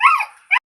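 A dog gives a high whining whimper, a short yelp trailing off, then one more brief whimper while playing, close and clear with no talking.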